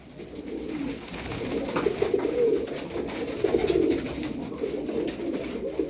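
Turkish tumbler pigeons, a flock of about fifty play birds, coo steadily in low repeating murmurs, with several birds overlapping close by in a continuous soft burble and no talk.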